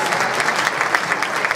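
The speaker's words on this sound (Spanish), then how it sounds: "se merecen este fortísimo aplauso para nuestros 7" A studio audience applauds seven contestants on a Spanish televised impersonation show, the clapping dense and steady throughout, loud and close, with no voices over it.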